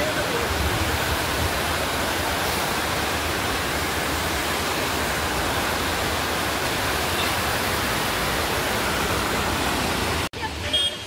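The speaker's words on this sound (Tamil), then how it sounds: "இதுதான் அந்த சில்வர் கேஸ்கட் வாட்டர் ஃபால்ஸ்" The Silver Cascade waterfall in Kodaikanal roars as a loud, constant wash of falling water close by, filling the scene evenly until it abruptly drops off near the end.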